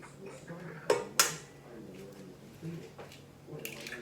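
Eggs dropped into a mixing bowl of sugar for Azorean malassada dough, giving two sharp clinks against the bowl, with soft voices talking faintly underneath.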